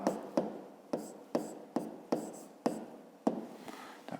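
Pen writing by hand on paper during a fifth-grade math exercise, a series of about ten sharp scratchy strokes and taps in an uneven rhythm, close and quiet.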